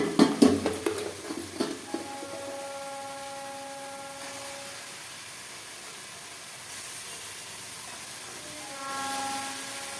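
Mutton pieces tipped into hot oil with cooked-down spices, red chilli powder among them, for a Bengali mutton curry: a few clattering drops at first, then a steady close sizzle that hisses on with faint tones behind it.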